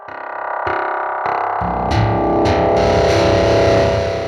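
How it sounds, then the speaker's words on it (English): Guitar chords struck one after another through a Fender Hammertone multi-head tape-style echo pedal, repeats smearing and building into a dense, rising wash of sound. "we did a multi-head delay, like an old tape echo kind of thing"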